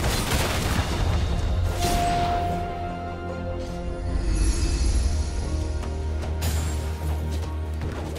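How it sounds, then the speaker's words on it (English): Gangplank's Cannon Barrage in League of Legends: a dense, continuous volley of booming cannon impacts and crashes in game combat, loud and sustained with layered explosions. "You can use Cannon Barrage to turn the tide of battle"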